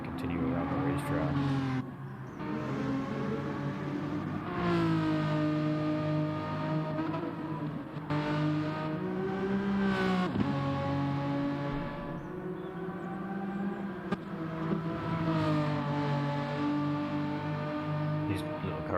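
Race cars lap a track during a racing league finale, their engines droning continuously with rising and falling revs and shifting pitch, while a commentator talks steadily over them.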